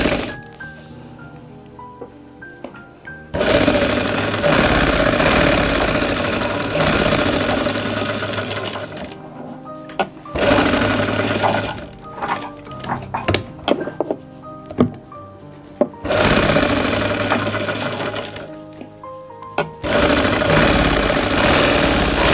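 Electric sewing machine stitching a seam on a men's kurta pajama, running in several loud bursts of steady whirring with short pauses between them, up close and without talk.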